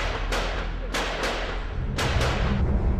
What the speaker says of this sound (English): suddenly we heard more gunfire